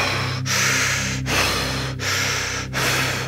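Deep, rapid rasping breaths in an ASMR meditation, a steady run of about four long breathy gasps close to the microphone with brief pauses between, and no talking.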